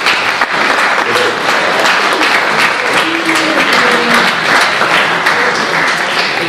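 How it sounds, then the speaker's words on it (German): Sustained, loud applause from an audience at a mayoral candidates' talk, dense clapping filling the whole stretch without pause. "Applaus"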